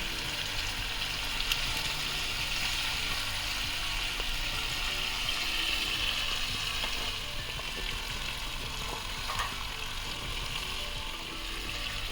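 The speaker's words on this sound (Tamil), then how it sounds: "இப்போது சிக்கனை திருப்பி விட்டு வேக வச்சுக்கலாம்." Tandoori butter chicken sizzles steadily in a pan after being flipped, a dense, even frying hiss that stays close and loud throughout with no voices.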